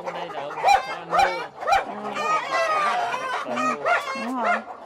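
Chickens at a local chicken farm cluck and cackle close by in quick, overlapping calls, with a dog-like yelp mixed in and brief talk in the background.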